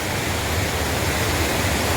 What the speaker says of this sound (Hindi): लेकिन ये स्ट्रीम है